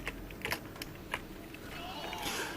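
Keys on a computer keyboard clack in quick, irregular bursts during gameplay of Tony Hawk's Pro Skater 3, faint and close against steady game background noise.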